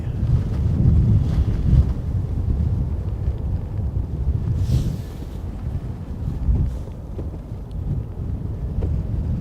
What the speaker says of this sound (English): Really, really is windy.